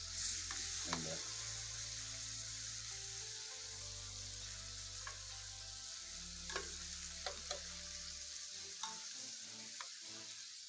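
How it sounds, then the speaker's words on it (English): Lobster and scallops sizzle steadily in a hot pan, a continuous frying hiss broken by occasional sharp pops and light clicks of utensils, with no one talking. "we're gonna let the lobster cook on one side for a little bit"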